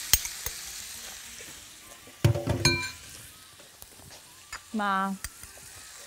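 Cubes of meat sizzle in a spoonful of oil with a sprinkle of black pepper, a steady close frying hiss broken by a few clinks and short stirring scrapes, with a brief word spoken.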